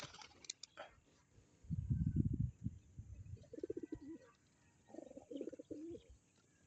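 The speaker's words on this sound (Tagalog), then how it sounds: "So, release na natin mga kalapatids." Homing pigeons released during a training toss, heard as soft low cooing and fluttery bird sounds in short bursts, fairly close and quiet.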